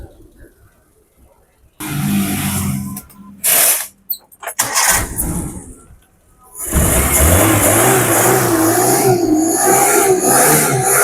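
A Suzuki Carry 1.0 carbureted engine cranks and sputters in uneven bursts with pauses, then catches and settles into a steady, close rumbling idle while a person talks.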